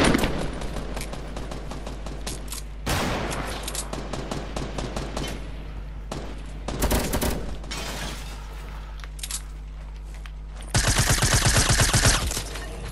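Fortnite Battle Royale gunfire comes in loud automatic bursts separated by brief gaps, with sharp single shots and a final sustained rapid volley, and no voices over it.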